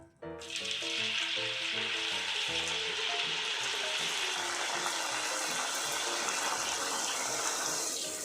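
Loud, continuous sizzling of food frying in hot oil, starting abruptly and crackling steadily with faint clinks in the background.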